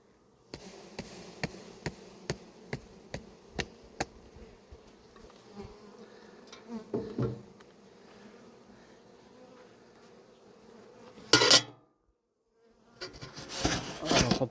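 Honeybees swarm around a busy beehive while bee escapes are being fitted, a steady close buzzing broken by a few sharp taps early on, a loud flurry, a brief hush, then the hum returns.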